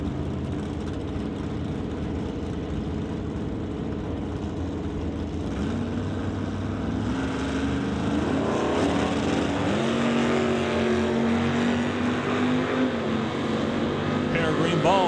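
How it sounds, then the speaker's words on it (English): A 1966 Chevy II drag race car launches down the strip at a drag racing event alongside another car. Engines roar and build to a rising, rasping wail, heard at a distance under steady announcer commentary. "Ross Walker up next, and the 66 Chevy 2 will be leaving second to Craig Johnson"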